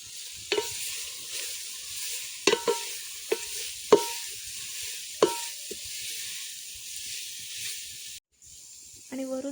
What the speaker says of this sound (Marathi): यात ठेचलेला कोवळा फणस घालते आणि मीठ परतवून घेते